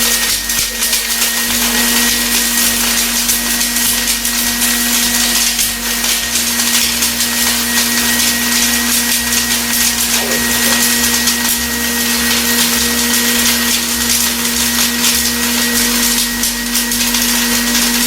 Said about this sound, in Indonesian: setelah merica dan cabai Jawa kita blender